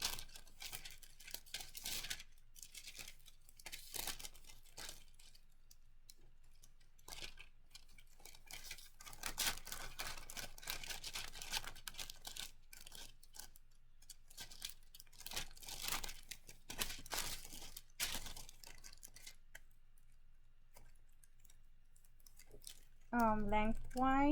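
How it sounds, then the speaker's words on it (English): Wax paper is torn off a roll and folded in half lengthwise, giving close, crisp tearing and crinkling rustles in uneven bursts, with quiet gaps between handling sounds. "we're gonna cut tear a piece of wax paper off the roll about 10 to 12 inches long. And then you're gonna fold it in half."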